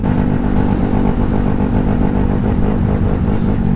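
A Honda Grom small motorcycle engine drones steadily and loudly up close while riding, a low throbbing rumble with slight clatter that holds constant throughout, no talking.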